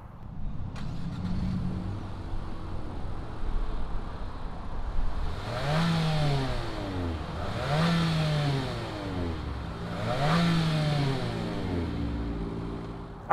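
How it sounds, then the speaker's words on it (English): A 2020 Nissan Altima SR VC-Turbo engine turns over and settles into a steady idle, then revs three times with rising and falling pitch, heard close and alone. "fire up this Altima and see what it sounds like"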